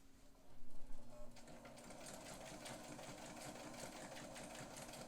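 A Necchi Supernova sewing machine stitching at speed, a steady close mechanical whir and rapid needle clatter that starts after a brief louder thump, running alone without voices.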